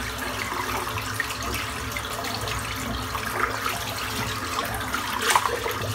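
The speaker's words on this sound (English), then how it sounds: "I'm just going to rinse this soap out now." Tap water running steadily into a sink while soap is rinsed out of a shaving brush with a ghost knot, a continuous soft splashing stream with a few brighter splashes near the end.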